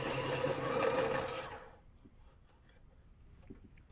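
An AFMAT professional electric sharpener whirs steadily as it grinds a Prismacolor colored pencil with a 7.4mm round barrel, then cuts off, leaving faint handling clicks.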